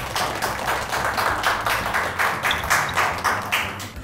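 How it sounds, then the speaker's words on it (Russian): Clapping applause in a home kitchen setting after a dish of gubadia is served, loud, close rhythmic hand claps in quick bursts with no talk over them. "Здесь должны быть аплодисменты."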